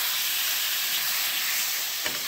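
Olive chutney with white vinegar is stirred in a pan, giving a constant close sizzling hiss and a small scrape near the end.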